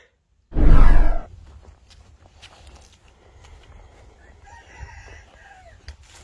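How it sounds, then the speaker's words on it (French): A rooster crows once outdoors, loud and close, a single harsh call in the first second, followed by quiet yard sounds with faint footsteps and rustling. "il y a peut-être mon coq qui va gueuler"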